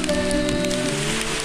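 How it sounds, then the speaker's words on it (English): Rain falls steadily at Issyk-Kul Lake in cold weather, a close, continuous patter on surfaces with no voices. "It's raining, it's 4 degrees Celsius above zero."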